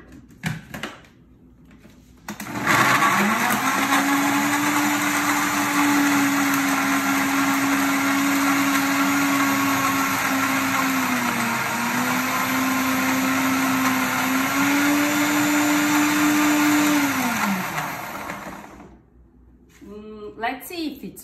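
Kitchen blender whirring through a tomato juice mixture, starting abruptly, running loud and steady for about fifteen seconds with slight pitch dips as the load shifts, then stopping.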